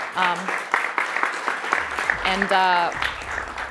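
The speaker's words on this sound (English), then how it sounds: "So another round of applause for all our speakers." Conference audience at a blockchain summit claps for the speakers, moderately loud applause mixed with voices talking over it.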